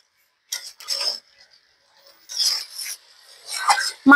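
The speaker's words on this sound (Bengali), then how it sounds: "এবার মাংসের সাথে আমি কিছু গোটা রসুন ও আলু দিয়ে দেব, দিয়ে ভালোভাবে কষিয়ে নেব।" Chicken being stir-fried in a pan with whole garlic cloves and potatoes, heard as a few separate bursts of scraping and sizzling as the pieces are stirred, with quiet pauses in between.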